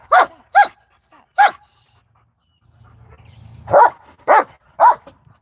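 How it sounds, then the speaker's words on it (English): A dog barks in the background, six sharp, loud barks in two groups of three separated by a pause, with a low hum in the gap. "There's a dog barking in the background"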